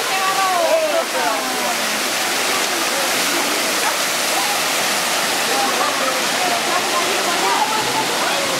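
Hot spring water jets pour steadily onto bathers at Hamat Gader in Israel, a loud, continuous rushing splash close by, with faint voices underneath.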